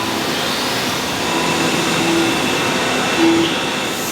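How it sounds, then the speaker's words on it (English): Milling machine cutting beadlock rings in a wheel factory; a steady, continuous machining whir and hum with faint tonal whines, running alone throughout. "we've got beadlock rings being milled over here"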